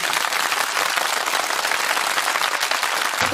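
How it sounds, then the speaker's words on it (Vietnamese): Dense, steady applause from an audience fills the whole stretch, loud and close, with no voices standing out above the clapping. "Nếu tốt thì dành một tràng vỗ tay."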